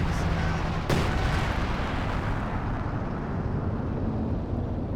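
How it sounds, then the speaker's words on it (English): Zeroing artillery in the WWII strategy game Company of Heroes 2: a sharp distant blast followed by a heavy, continuous rumble of shelling and battle noise. "Don't want to push into the zeroing artillery."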